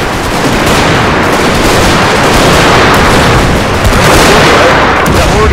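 Continuous loud barrage of artillery and gunfire in a Total War battle set during the 1864 Battle of Franklin of the American Civil War, a dense, rumbling wall of booms and crackling shots filling the whole stretch without letup.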